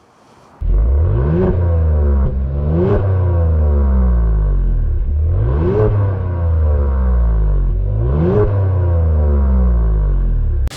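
A 2025 Genesis G70's exhaust, with four outlets through the mufflers, revs repeatedly, loud and close, with four rising and falling engine swells over a deep steady rumble.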